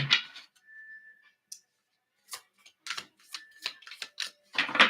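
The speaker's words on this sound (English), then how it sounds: "I'm gonna cut it because this deck is a little shuffled." A deck of tarot reading cards being cut and handled at close range, with a run of crisp card snaps and riffling clicks, a brief faint tone early on, and no talking.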